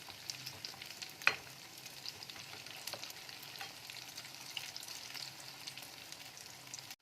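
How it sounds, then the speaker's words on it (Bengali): Chicken spring rolls in homemade sheets deep-fry in hot oil over a high gas flame, giving a steady, soft bubbling crackle with one sharp tick early on. "এগুলো আমরা একটু হালকা লাল করে ভেজে নেব"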